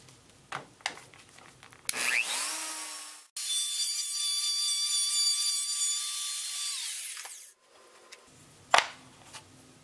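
A router guided along a fence cuts a center notch in a wooden dowel for a da Vinci bridge puzzle piece: two sustained, loud whining passes, briefly broken in between, framed by scattered knocks and clicks.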